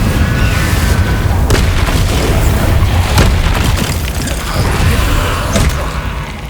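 Spell blasts of Incendio and Confringo from Hogwarts Legacy, heard as a dense, continuous run of booming bursts with sharp repeated cracks over a rumbling low roar, loud and close throughout.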